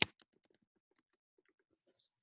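Keys clack on a computer keyboard: a sharp opening click, then a scattered run of quiet, light taps trailing off in near silence.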